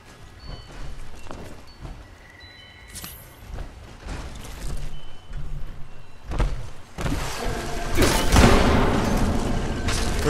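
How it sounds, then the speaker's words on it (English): Fireworks bursting in the online game Fallout 76, a run of booming cracks and crackling blasts that swell louder toward the end, with a voice talking over them. "Where's this stupid firework?"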